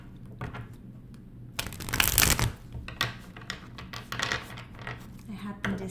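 A deck of tarot cards is shuffled close by, giving several bursts of riffling and flicking with a loud flurry in the middle and softer taps around it.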